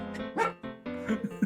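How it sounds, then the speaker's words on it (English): Dog barking in short, sharp yips and bow-wows, several quick barks close to the microphone, some with a whiny edge, alone without talk. "The dog is barking."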